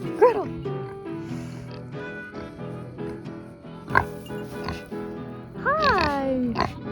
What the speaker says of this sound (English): Oh my gosh, there's a massive pig coming.